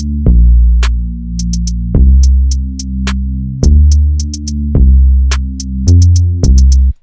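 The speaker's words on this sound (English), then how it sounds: "Here's a synth bass." EQed synth bass in a trap beat, with deep booming 808-like notes hitting hard in a slow pattern under crisp hi-hat ticks, loud and up front.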